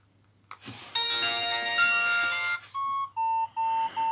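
A retro Fly mobile phone plays its startup melody while booting: a bright, ringing electronic chime swells close and clear, then gives way to a short run of distinct sustained beeping tones, with no talking.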